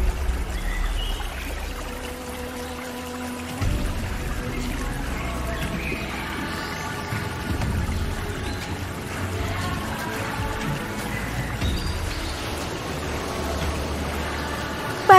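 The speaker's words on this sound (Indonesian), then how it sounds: "sebuah fenomena alam langka, air terjun Waimohoho. Air terjun yang langsung jatuh ke laut" Waimohoho waterfall pouring straight into the sea, a steady broadband rush of falling water heard at moderate distance, continuous and even beneath a soft musical backing.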